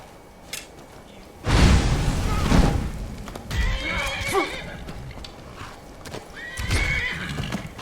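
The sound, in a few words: horse neighing and hooves in Skyrim video game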